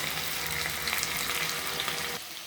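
Sliced onion frying with potatoes in a hot pan gives a steady, close sizzle and crackle, with faint stirring scrapes and the hiss easing slightly toward the end.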